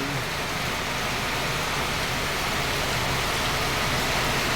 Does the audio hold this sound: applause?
no